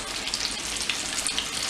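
Chicken frying in hot grease in a cast iron pan: a steady, dense sizzle and crackle, fairly loud and close, with brief pops rising out of the hiss and no talking.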